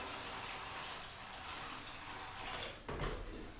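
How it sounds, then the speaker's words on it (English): Water tipped from a container into Johnson white paint to thin it for a mist coat, a steady, close pouring wash with a brief louder splash near the end. "Tip some water in now."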